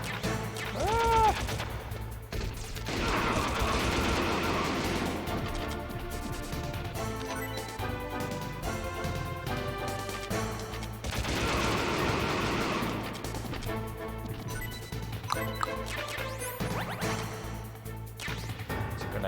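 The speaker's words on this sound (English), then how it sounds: "It's grenades now." Grenade explosions in the PS1 game Metal Gear Solid, loud repeated blasts and crashing bursts layered over dense game music and effects, with no talking.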